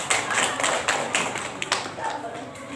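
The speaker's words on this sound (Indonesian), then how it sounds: "Persegi, beri tepuk tangan." Children in a classroom clap their hands together in a quick burst of uneven claps, fairly faint and close, with some tapping and thuds mixed in.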